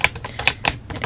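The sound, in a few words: scraping a mealworm container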